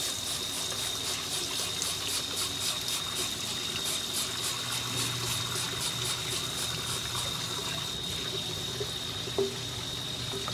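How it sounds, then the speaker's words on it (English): Very hot water runs from a tap while vacuum cleaner parts are washed with a cleaner mixed into it, a continuous close hissing stream with faint splashes and one small knock near the end. "Very hot water seems to be loosening this stuff up"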